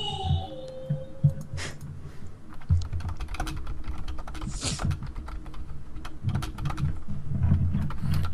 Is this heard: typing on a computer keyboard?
yes